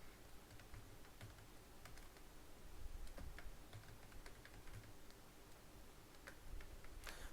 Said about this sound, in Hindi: अब दोबारा मुझे टाइप पासवर्ड करना पड़ेगा